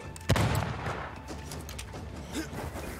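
Gunfire from the video game Banishers: Ghosts of New Eden, a sharp loud shot followed by a scatter of quieter pops and clicks over low game ambience.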